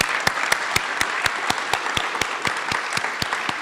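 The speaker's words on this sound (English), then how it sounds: "And I do think we should give a round of applause." Steady applause from a graduation ceremony audience at a university flight academy, with dense mid-level clapping and regular sharp claps close by. The clapping stays constant for the whole stretch.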